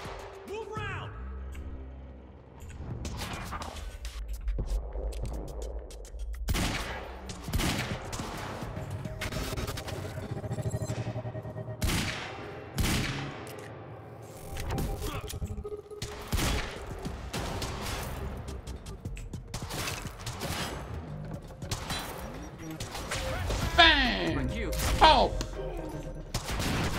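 Heavy pistol gunfire in Quantum Break, many sharp shots spread irregularly across a tense firefight, loud and close, with a voice talking in between.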